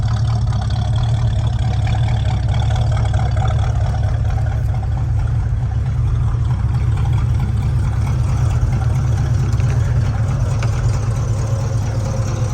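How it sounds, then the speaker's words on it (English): A 1966 Ford Mustang's 289 V8 idles loudly and steadily up close, a deep continuous rumble from the dual exhaust with no change in pace and no voices. "listen to that dual exhaust"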